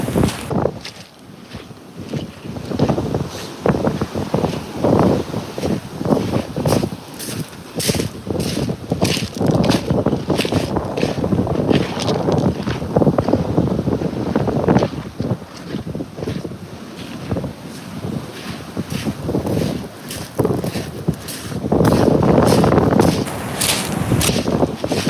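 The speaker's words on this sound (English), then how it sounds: "It is windy out right now." Strong coastal wind buffets the microphone in loud, rough gusts that rise and fall throughout, with no one speaking.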